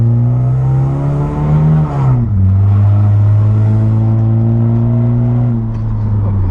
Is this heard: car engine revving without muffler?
yes